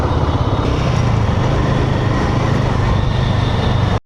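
A Ducati Scrambler 900 motorcycle ridden through night traffic gives a loud, steady engine drone mixed with heavy wind rumble, continuous and close before cutting off abruptly at the end.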